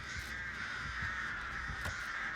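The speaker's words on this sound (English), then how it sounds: "Oh, she's sending out her birds." Crows caw in a video game, a few harsh calls over a steady hissing ambient background, moderately loud and close.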